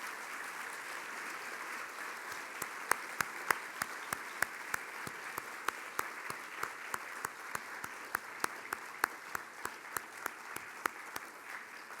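An audience applauds veterans at an impact celebration event, with a clear run of sharp claps that rise partway through and keep steady over a quiet room hum.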